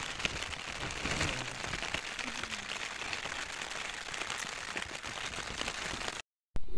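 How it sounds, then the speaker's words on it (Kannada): Rain falls steadily outdoors as a continuous even hiss of drops on surfaces, lasting several seconds and then cutting briefly to silence near the end. "ಅದಕ್ಕೆ ಈಗ ಮಳೆ ಅದಿದೆ"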